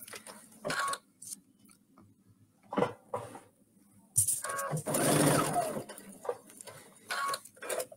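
A sewing machine runs in short bursts while stitching a pincushion, with quick tacking runs and one longer stretch of whirring, separated by quiet pauses and light handling clicks.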